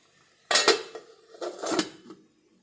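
A metal lid set onto a pot of sardine curry on the stove, two short clattering bursts of metal contact about a second apart, close and clear with no talking.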